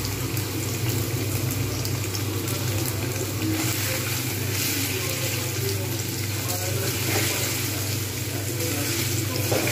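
Kabuli chana and paneer fry in a pan, giving a dense, continuous sizzle that stays loud and even throughout, with no clear talking.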